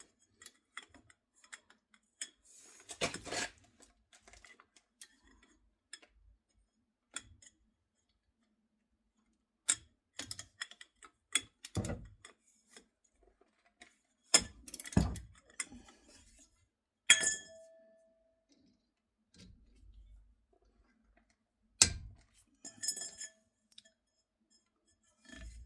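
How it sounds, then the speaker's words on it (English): Sparse metallic clicks and taps come from undoing the brake caliper pins on a car during a brake pad change. They are close and quiet, with long silent gaps between short bursts. "These are two caliper pins. First of all, we will open them."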